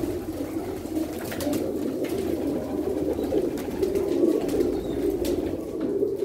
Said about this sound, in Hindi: देखो टैडी कबूतर है